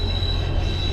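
A train passes nearby, a steady loud rumble of rolling wheels on rail with a thin, sustained high squeal running through it; no voices.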